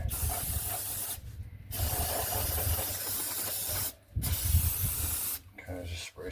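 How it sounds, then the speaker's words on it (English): Aerosol carburetor cleaner sprayed onto a stuck carburetor on a 1974 Chevrolet C20 box van, three short hissing bursts close to the microphone over a low background rumble, with some talk. "kind of just spray some more of this carburetor cleaner on here"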